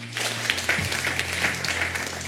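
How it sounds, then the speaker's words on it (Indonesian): Congregation at a Pentecostal prayer rally clapping together, a steady wash of many hands applauding at moderate loudness, with a faint voice near the start. "Tepuk tangan buat Allah kita."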